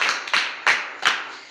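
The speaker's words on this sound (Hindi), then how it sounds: "एक बार जोरदार ताली" Four sharp, loud claps at an event with an audience, close by and separated by short uneven gaps, each dying away quickly.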